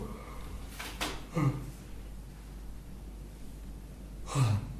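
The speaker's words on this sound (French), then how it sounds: "je me permets, c'est pas très poli de bailler, mais c'est la détente" A man yawning during a relaxation talk, long breathy exhales with a soft drawn-out groan, one near the middle and another toward the end, quiet and close with no words.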